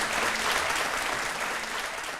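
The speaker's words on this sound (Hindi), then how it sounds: "ताली बजा दो" Audience applause in a televised interview show studio: dense, steady clapping from a crowd, sustained at even loudness throughout with no talking.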